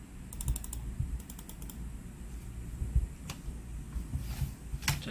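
A Vinu Z1 Pro wireless gaming mouse has its buttons pressed repeatedly in a click test, giving quick bursts of crisp, close clicks followed by scattered single taps, with no talking.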